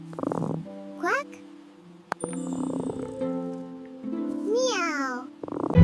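A cartoon cat meows several times in rising, bending tones, set among other cartoon character voices and bright, playful background sounds in a desert rescue scene.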